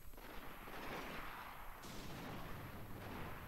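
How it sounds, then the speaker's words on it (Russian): Muffled, distant gunfire rumbles continuously, with a shift in intensity partway through. "пацаны, я слышу, вы стреляете"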